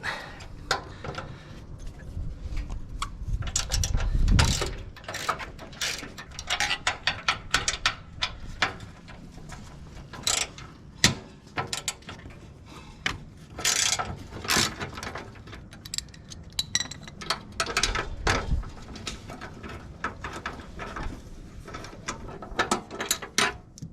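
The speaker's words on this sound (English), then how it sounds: "For the top one, my ratchet is a little bit large, so I'm going to use a deep well." A ratchet with a deep well socket loosens 13mm exhaust bolts on a 2023 Indian Challenger motorcycle, with bursts of clicking and metallic mechanical rattles close by, interrupted by clanks and pauses, and no talking.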